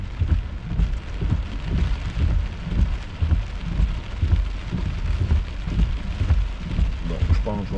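Steady rain drums on a car roof during an evening thunderstorm on August 10, 2023, a dense, continuous patter heard from inside the vehicle, with low rumbling underneath and a voice briefly speaking.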